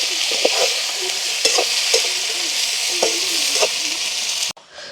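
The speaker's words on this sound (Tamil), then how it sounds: "வெங்காயம் பச்சை மிளகாயெல்லாம் நல்லா வதங்க கட்டுக்கும் எங்களுக்கு" Onions, green chillies and garlic sauté in a pan over a village cooking fire, a constant hissing sizzle broken by repeated rhythmic scrapes of a stirring spoon.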